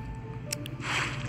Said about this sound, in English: the water is now rising up, so I guess that is how we'll come out of this cave